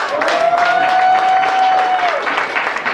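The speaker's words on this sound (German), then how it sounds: "jetzt spenden wir noch einen Applaus, nämlich für unser Publikum" Audience applause fills an old brewery hall in Cologne's old town, steady dense clapping throughout at close range, with a sustained tone and some voices mixed in.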